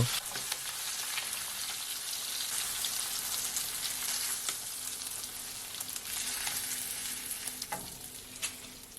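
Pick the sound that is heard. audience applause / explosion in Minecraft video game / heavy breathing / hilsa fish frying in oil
hilsa fish frying in oil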